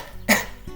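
A voice imitates a bee giving a single short, raspy cough, close and abrupt, followed by a faint low hum.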